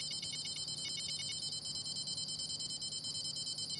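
In the video game Fishing Planet, a carp rod's bite alarm rings as a high, rapid electronic beeping in a short burst, then fades under a steady hiss of game ambience.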